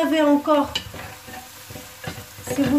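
Bell peppers going into a pan for a vegetable lasagna, giving a close sizzle and frying hiss with a few stirring scrapes, with no talk.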